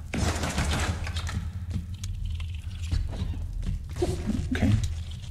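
Gunfire from a weapon in the Ghost Song video game, a dense, continuous stream of rapid shots at steady loudness throughout, with no speech over it.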